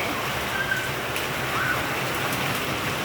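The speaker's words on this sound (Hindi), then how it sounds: "तेज, एकदम तेज बारिश आ गई है।" Heavy monsoon rain, the first of the season, pours down around a house. It makes a steady, dense hiss of drumming drops that stays even throughout, with no voices.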